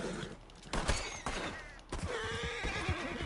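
A horse whinnies loudly in Red Dead Redemption 2, a few sharp neighs and snorts mixed with hoof clops and bursts of gunfire nearby.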